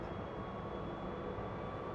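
Heater in a Citroen Ami quadricycle blowing hot air, a steady broadband fan rush that holds even and unbroken throughout, with no voices.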